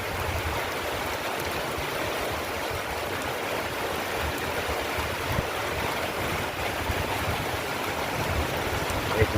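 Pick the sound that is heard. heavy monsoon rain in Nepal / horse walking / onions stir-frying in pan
heavy monsoon rain in Nepal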